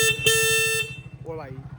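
A loud motorbike horn blares in a steady tone for under a second over the bike's throbbing engine, then a voice speaks briefly as the engine keeps pulsing.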